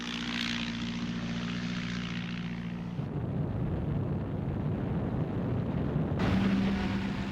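Gladiator fighter biplanes in wartime Malta, heard as a continuous droning propeller engine roar that shifts abruptly partway through into a rougher, broadband rumble.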